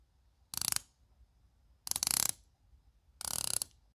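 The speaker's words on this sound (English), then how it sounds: "The bezel feels a little bit loud." The rotating bezel of a Longines Hydroconquest 41mm watch is turned three times, each turn a rapid close-up run of crisp ratcheting clicks lasting under half a second, separated by quiet pauses.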